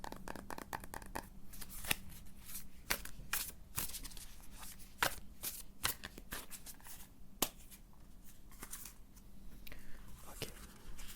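Tarot cards are shuffled and drawn up close in a steady flurry of crisp riffling and flicking snaps with occasional sharper slaps of cards landing, soft and intimate with no talking.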